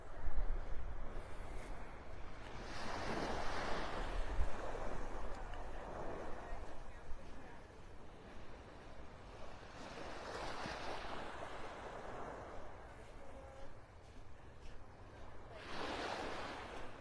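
Ocean surf rolling onto Vanderbilt Beach in North Naples, Florida, with broad washes of breaking waves swelling in roughly every six to seven seconds over steady wind and shoreline noise.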